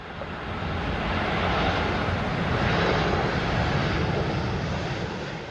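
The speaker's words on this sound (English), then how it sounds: "The Airbus A321 struck the ground with its tail, causing scratches to the aircraft." Airbus A321 airliner touching down with a tail strike, heard as a loud, steady broadband jet engine roar that swells and holds for several seconds with no voices.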